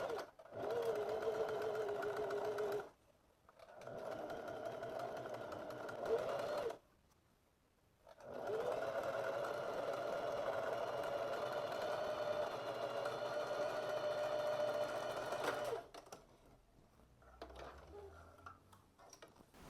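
A sewing machine runs a 1 cm finishing seam along the curved front crotch of pleated shorts, in three steady stitching bursts separated by brief pauses, close and clear with no talk.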